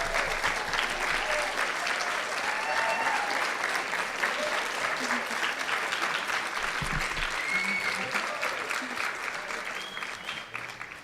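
A large audience applauds steadily at a College of Pharmacy graduation pinning ceremony, dense sustained clapping with faint voices and cheers mixed in.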